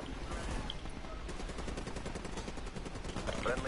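An annihilator weapon in a multiplayer video game fires rapid, continuous bursts under a busy mix of game noise, moderately quiet and sustained throughout.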